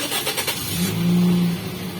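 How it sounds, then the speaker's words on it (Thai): A Toyota Vios started with a push-start button: a brief starter crank catches into a steady mid-pitched idle, close and loud. "เราต้องการสตาร์ทเครื่องตอนนี้เลย เราอย่าเบรกแล้วสตาร์ทได้เลย"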